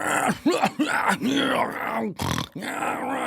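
A voice imitates a room of about 150 men snoring in a homeless shelter, producing a run of rough groaning and grunting snorts in quick irregular bursts, close and fairly loud.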